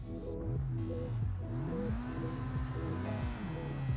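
Race cars in Project Cars 2 pull off the starting line at Donington Park, engines rising and shifting in overlapping tonal whines under a steady rumble, moderately loud with no talk.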